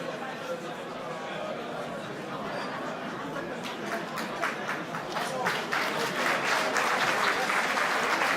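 A crowd at a combat sports semi-final bout, under 77 kg, applauds the fighters with steady dense clapping and some chatter, swelling louder toward the end.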